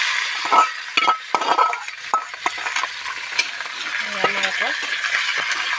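Broiler chicken meat frying with onions in a pan: a lively sizzle broken by repeated scraping and clinking strokes of a stirring spoon, close up and without speech.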